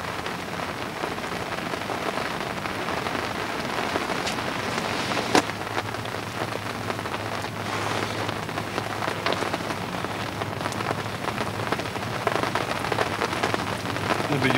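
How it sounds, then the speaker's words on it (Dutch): Steady rain patters on surfaces around an autumn carp-fishing spot on a muddy bank, an even soft hiss with scattered sharper drops and faint distant rumbles throughout. "Het regent nog steeds."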